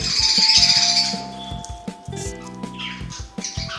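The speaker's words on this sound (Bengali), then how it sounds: "দেখুন পাখিগুলো কত সুন্দর খেলছে" Birds squawk and chirp in quick, overlapping bursts near a temple in the evening, the calls fairly close and loud at first, then scattered and lighter, with no talk.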